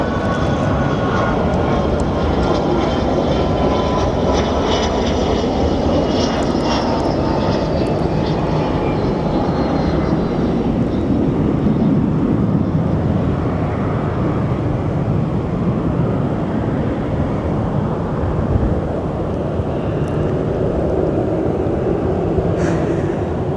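Airliner in Canyon Blue livery at Phoenix Sky Harbor, a loud continuous jet roar with a descending whine that slowly shifts as it passes, heard alone without talk.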